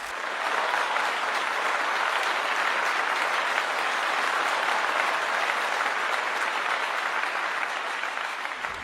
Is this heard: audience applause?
yes